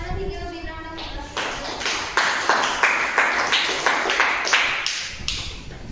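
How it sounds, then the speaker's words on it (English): A round of applause at a school Teacher's Day event at Christ the King Senior Secondary International School: steady, rhythmic group clapping builds after a brief voice and keeps a loud, even beat for several seconds. "give a big round of applause"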